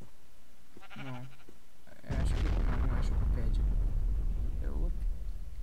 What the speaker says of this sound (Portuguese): Sim, galera, teve uma explosão aqui perto.